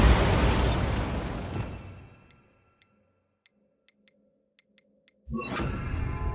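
A Bombarda explosion spell in Hogwarts Legacy goes off as a loud roaring blast that fades into near silence with a few faint ticks, then a second burst starts abruptly near the end. No one talks.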